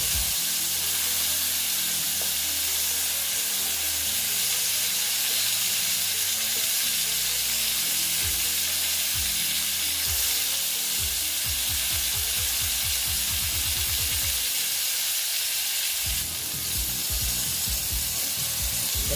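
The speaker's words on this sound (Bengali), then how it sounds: "মোটামুটি আমার পটলগুলোর মধ্যে কালার ধরে ধরার মতন আমাকে ভাজতে হবে" Pointed gourd frying in a pan, a steady loud sizzle with repeated scraping and stirring strokes near the microphone.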